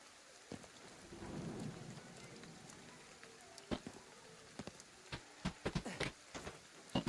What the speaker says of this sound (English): It's raining in the game and it's raining here